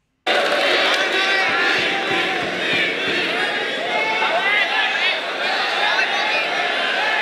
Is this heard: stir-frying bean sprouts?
no